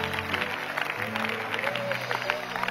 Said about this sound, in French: Là maintenant tu peux applaudir.